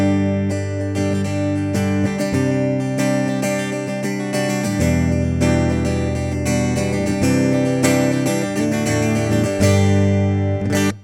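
An electric guitar on its middle pickup through a Line 6 HX Stomp Taylor acoustic simulator plays strummed and picked chords with a bright, acoustic-like tone, continuously and fairly loud with no talking.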